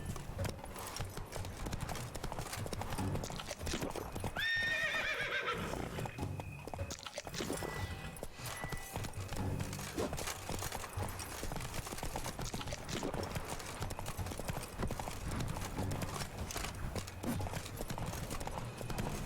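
A horse gallops in The Witcher 3, its hooves clip-clopping in a fast, steady rhythm that runs continuously under game sounds, with a brief whinny-like cry early on.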